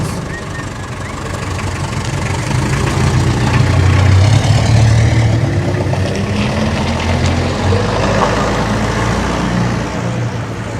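A car engine rumbles as a film sound effect, a close low mid-range drone that swells in a mild rev around the middle before settling back, with some speech-like sound faintly underneath.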